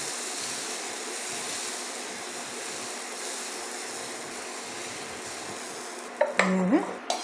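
Jaali paratha made from egg, flour and rice flour cooks on an overheated tawa brushed with oil, a soft continuous sizzle heard alone, ending with a short burst of metal scraping and clatter from a spatula against the pan.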